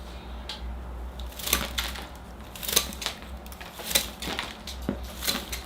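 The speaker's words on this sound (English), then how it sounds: "I'm going to come in with the big scissors to prune the top canopy down." Large scissors snip repeatedly through the top canopy of a small-leaf ficus bonsai, giving sharp, close crisp cuts spaced about a second apart over a steady low hum.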